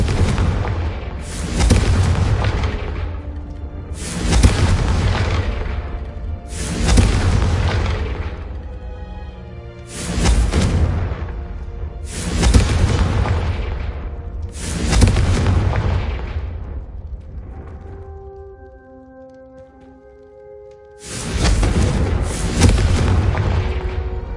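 Repeated Confringo blasting-curse explosions in the game Hogwarts Legacy, six heavy booming blasts at a roughly even pace, each with a long rumbling decay, and a brief sustained tonal hum after the fifth.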